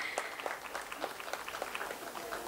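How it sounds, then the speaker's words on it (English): An audience applauds at a cultural event at the civic centre in Rourkela: steady, evenly scattered clapping, faint and somewhat distant, with no voices over it. "Ms. Ananya Basak, Ms. Sahayana Sen Gupta, a big round of applause please"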